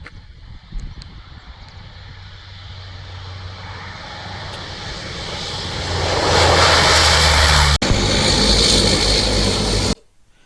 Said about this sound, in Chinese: 接我们的飞机来了。